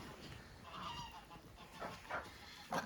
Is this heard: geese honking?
yes